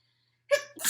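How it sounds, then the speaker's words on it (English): A single close, sharp sneeze bursts out after half a second of near silence, followed by a short breathy second burst, all from one person. "I have a sneeze coming."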